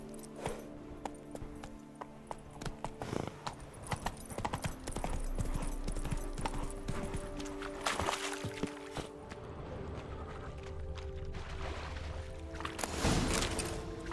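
Hooves of a horse ridden in the video game The Witcher 3 clip-clop steadily over ground, with a rhythmic gait and some louder thumps, against a continuous game ambience. Nobody speaks.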